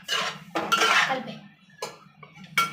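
Egg rice stirred in a pan: a series of metallic scrapes and clinks of a spoon against the pan, several loud strokes with short pauses between them, close up.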